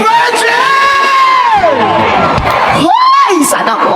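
Crowd at a band concert in Bataraza, Palawan cheering, whooping and shouting loudly and continuously, with close, strong voices rising and falling throughout.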